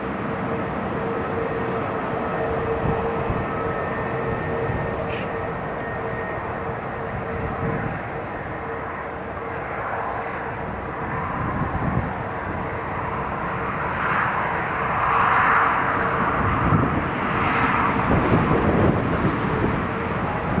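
An Italian Air Force C-27J military transport aircraft lands at Newcastle International Airport, its engine roar steady and fairly loud throughout, swelling slightly toward the end as it passes closer.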